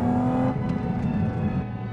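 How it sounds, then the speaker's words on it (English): A Porsche Cayman GT4 RS carrying the 911 GT3 engine revs in a short, loud burst that eases off, heard close with no talk. "This is the engine out of the 911 GT3."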